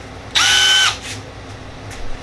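A Milwaukee 3/8 inch cordless drill driver whirs in one short, loud burst of about half a second, followed by faint quieter motor blips.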